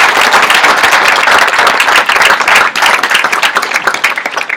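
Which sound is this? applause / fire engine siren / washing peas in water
applause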